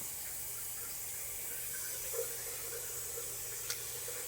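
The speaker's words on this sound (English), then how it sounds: "This is what I have to do to take a shower." Shower water running steadily in a home bathroom, a constant hiss of spray with faint splashes and a couple of brief knocks, moderately quiet and without talk.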